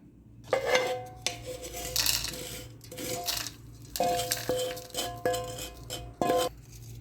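Roasted spice masala for dahi bara seasoning being scooped out of a hot pan into a vessel after the flame is switched off, with clinking metal utensils scraping and tapping against the pots in several distinct bursts.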